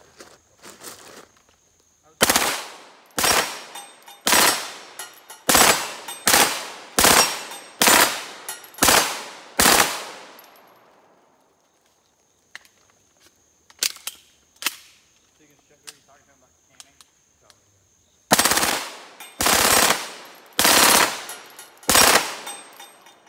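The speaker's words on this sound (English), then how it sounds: "we're gonna run this CZ Scorpion a little more. We'll put it on burst and we'll engage these three man steels" CZ Scorpion firing bursts at three steel man-target plates on an outdoor range: loud, sharp clusters of rapid reports in quick succession, a pause with faint scattered sounds, then more bursts near the end.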